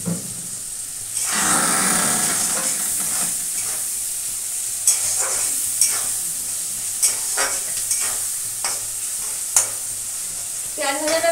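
Onions fry in a pan with a little sugar, giving a steady close sizzle with a hiss and scattered scraping stirs.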